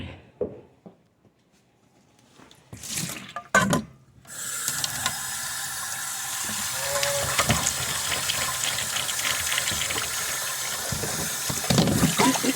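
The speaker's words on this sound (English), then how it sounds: "A little warm water in there." Warm water runs steadily from a tap into an animal's water dish during winter morning chores, a continuous broadband splashing rush that starts after a few knocks and holds for about eight seconds, close to the microphone.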